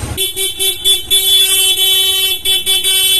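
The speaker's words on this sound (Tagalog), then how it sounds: "Kasi ito yung pinaka stock horn ni Sir." The stock horn of a Sniper 155 motorcycle sounds in a run of quick loud toots, a short stuttering burst, then a longer sustained blast, then two more short blasts, close and alone.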